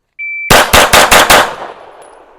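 A Live Free Armory Apollo 11 rifle fires a rapid string of five loud, close shots in even rhythm, each with a sharp crack and ringing tail, preceded by a brief steady tone.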